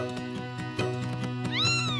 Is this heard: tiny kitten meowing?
yes